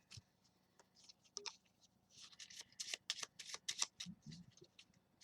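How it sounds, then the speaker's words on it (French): Spectators shuffle packs of playing cards in a series of quick riffling bursts. The bursts come close together, with soft card slaps and handling noises in between, against a quiet room. "Ils mélangent chacun leur paquet."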